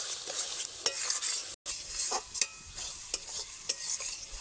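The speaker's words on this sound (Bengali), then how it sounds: "হলুদ গুঁড়ো আর কাঁচা লঙ্কা চেরা দেওয়ার পর কিছু সময় আমি নেড়ে নিয়েছি" Steady sizzling of slit green chillies and turmeric powder frying in a pan with intermittent scraping stirs of a utensil, close and continuous, no voices.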